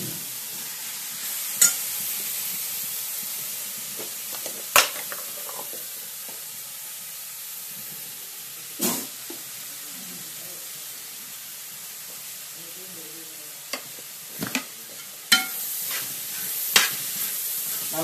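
Beef roast masala with chilli powder and turmeric being stirred in a hot pan: a low, steady sizzle with scattered scrapes and clinks of the spoon against the pan.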